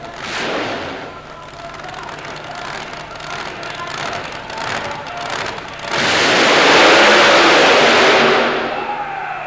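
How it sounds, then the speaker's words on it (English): A supercharged small block Chevy engine powers a mud racer at a super modified mud racing event, roaring and high-winding, then a loud spray-like surge of noise swells near the end, with a commentator talking over it. "The supercharged small block Chevy makes noise like no other vehicle"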